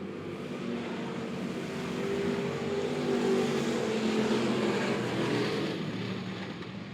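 B Modified race cars roar around the oval at Monett Motor Speedway, a continuous dense engine drone that swells and fades as the pack passes, steady and moderately distant, with no voices.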